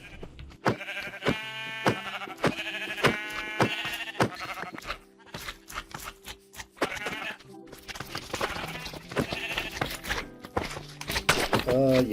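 Blocky sheep in a modded Minecraft world on a superflat map let out repeated bleats, some near and loud, with occasional thunking footsteps between the calls.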